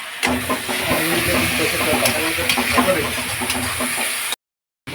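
Garlic paste sizzling and hissing steadily in a hot pan, a dense continuous crackle with occasional sharp pops, close and fairly loud, ending abruptly in silence near the end.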